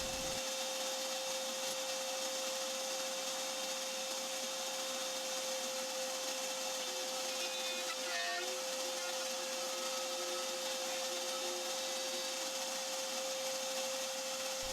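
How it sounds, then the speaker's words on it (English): A DeWalt palm router with a plunge base and edge guide cuts a rabbet in an oak frame, holding a loud, steady high whine for the whole stretch without pause. "cutting this rabbet is pretty simple using the guide that attaches to the plunge router base for the DeWalt palm router"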